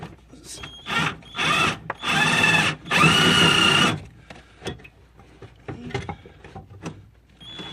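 A power drill whirs in several short bursts, each a few seconds long and close by, followed by quieter clatter and handling noises.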